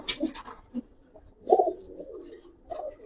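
Pigeons coo nearby in soft, throaty bursts, with a few brief rustles and chirps between calls and no speech.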